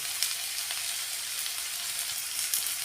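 Masala with tomato and ginger-garlic paste fries in a pan with a steady, close, hissing sizzle that holds constant, broken by a couple of faint stirring ticks.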